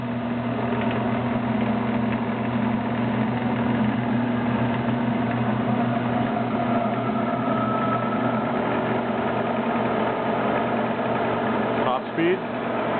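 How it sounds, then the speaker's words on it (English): A CSA PM45 lathe's Reeves variable-speed drive runs steadily at top speed with its headstock sheave fully open, giving a continuous mechanical hum with a low drone throughout and a brief clunk near the end. "Here goes the Reeves drive."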